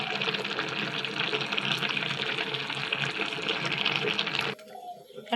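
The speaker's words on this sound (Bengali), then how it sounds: "একটা ঝুড়ির মধ্যে নামিয়ে নিয়েছি, জলটা বের হয়ে যাবে।" Water drains and splashes steadily out of boiled taro greens set in a basket, a continuous gushing pour that cuts off abruptly near the end, leaving near silence.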